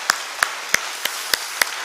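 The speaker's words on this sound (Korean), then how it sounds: "우리 한번 큰 브레싱 박수를 한번 하겠습니다" Several sharp claps ring out at a steady, roughly even pace during a church worship service, a thin scattering of applause rather than a full ovation.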